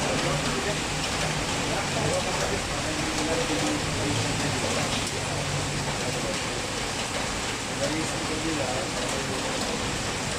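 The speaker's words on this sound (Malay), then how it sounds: "Minta maaf lah sebab ini hujan di luar." Steady rain falls outdoors in a broad, even hiss that holds at the same level throughout, with a faint low hum underneath.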